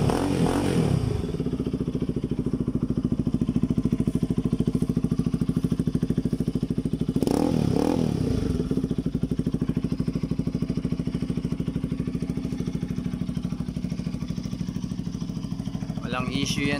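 A Bajaj Pulsar RS200 motorcycle fitted with an aftermarket Akrapovic muffler idles steadily and close up, with two sharp throttle blips near the start and in the middle before settling back to a throbbing idle.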